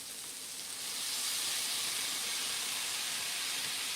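Soy sauce hitting hot stir-fry vegetables with steak raises a steady hiss of steam and sizzle that swells after the first second and holds, soft but constant, with no voices.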